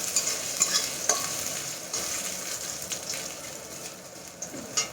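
Grated ginger and bay leaves sizzle softly in hot oil for a pulao while a spoon stirs and scrapes the pan, with small clinks and a steady quiet frying hiss, no talking.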